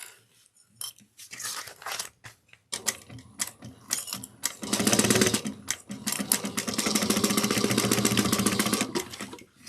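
A sewing machine runs fast, steady stitches along the seam of a crossbody bag, opening with short stop-start bursts and then settling into one long continuous run, close and fairly loud.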